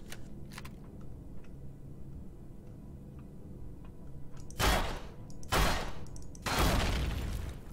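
Three loud, close shotgun blasts in the game Empyrion, each a sharp burst with a short tail, spaced about a second apart after a quieter stretch of low background rumble.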